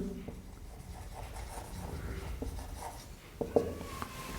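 Chalk or a marker scratches and taps on a board in a classroom as a definition is written, a series of faint strokes with a sharper tap near the end, and a voice is heard faintly.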